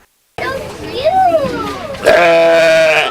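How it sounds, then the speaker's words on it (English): Sheep on display at the American Heritage Center gives a loud, wavering bleat close by, then a second, sharper bleat, with children's voices audible in the background. "This sheep was just one of the many animals on display for people to see"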